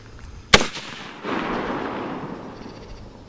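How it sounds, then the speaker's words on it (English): A single sharp, loud shot from an AR-15 rifle firing reloaded .223 ammunition outdoors at a target range, followed by a brief echoing rumble that fades over a few seconds. "Shoot my first time reloads in my AR-15."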